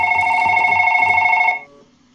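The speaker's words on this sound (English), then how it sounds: "Why is the phone ringing but I can't get to it?" A telephone in the game One Late Night rings with a loud, steady electronic trill that cuts off after about a second and a half, leaving faint background hum.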